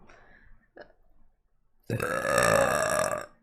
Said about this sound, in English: When I drink acidic things or sparkling water, it makes me burp a lot.